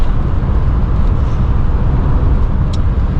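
Interior of an MG Metro car driving along a bumpy UK road, a loud steady rumble of engine and road noise with rattling from the worn suspension.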